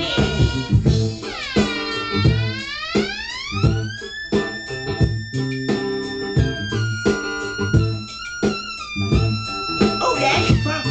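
Synth lead from a song, a squealing high synth line that slides upward in long swoops over a steady funk groove of drums and bass, loud and up front.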